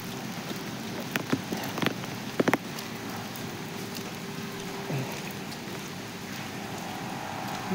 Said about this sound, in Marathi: आज पाऊस पण खूप आहे.